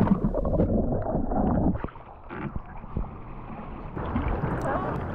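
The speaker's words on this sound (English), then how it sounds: "Today, I am paddling across the Montaku Channel in Hao Sound, starting from Porto Cove, heading to Anvil Island" Kayak paddle strokes splash and gurgle close by while crossing a sea channel in a coastal sound, with wind buffeting the microphone throughout.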